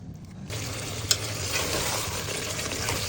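Green chili and fish paste sautéing in a pan for a hill-style fish and chili mash, a steady close frying hiss that swells after a quiet start, with one brief clink partway through.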